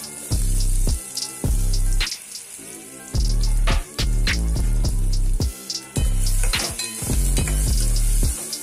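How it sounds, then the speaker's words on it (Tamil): Sliced onions fry in hot oil in a pan for a bitter gourd curry, a steady loud sizzle broken by repeated sharp metallic clanks of a spoon stirring against the pan, with no talking. "இப்போ நம்ம கட் பண்ணி வச்சுருக்க வெங்காயத்தை அதில் சேர்த்து நல்லா வதக்க போகிறோம்"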